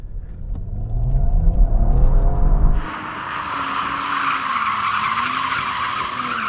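A BMW M3 or Audi RS4 engine roars and its tyres spin and squeal hard on a launch test, smoking from the inside front tyre, a loud rumble giving way to a sustained high screech that continues to the end.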